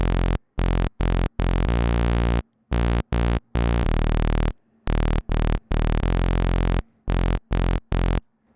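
A synth bass plays a short repeating rhythmic figure, clean choppy notes separated by brief silences, alone and fairly quiet with no voices.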